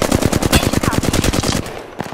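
Rapid automatic gunfire in Apex Legends on PS4 Pro, a loud, close, evenly spaced burst of about twenty shots that stops abruptly, followed by a single quieter shot.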